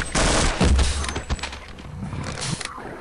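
Gunfire in the video game Half-Life, a rapid burst of shots followed by scattered clattering impacts, loud and close at first and then tapering off.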